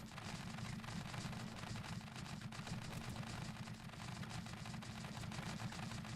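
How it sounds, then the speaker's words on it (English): A vehicle-mounted gun in Scrap Mechanic fires in a continuous rapid burst, a dense unbroken rattle of shots that stays at an even level throughout. "Let's drive it around and let's actually start firing."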